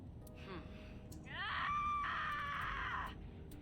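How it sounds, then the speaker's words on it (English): A drawn-out, high, wavering scream from a character in the video game AI: The Somnium Files rises and holds for well over a second, preceded by fainter vocal sounds over a quiet background. "That was a blood-curdling scream."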